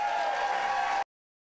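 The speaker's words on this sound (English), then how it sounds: "I want the loudest cheer you guys have done all day for my next group" A crowd cheering and applauding at a demo day event, a loud, sustained wash of clapping and shouting that cuts off abruptly after about a second.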